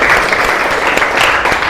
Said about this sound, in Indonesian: Tepuk tangan dari kaum Muhajirin.